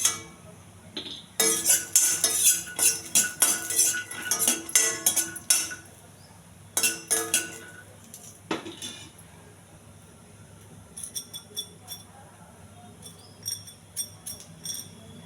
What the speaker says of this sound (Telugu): పల్లీలు కొంచెం దోరగా ఎగించాలి. మాడిపోకుండా దోరగా ఎగించాలి.